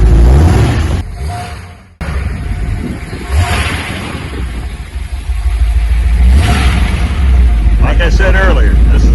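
A 1959 Ford Thunderbird with Flowmaster FX performance mufflers rumbles steadily outside, its deep exhaust note rising in a couple of revving swells, with speech faintly audible under it.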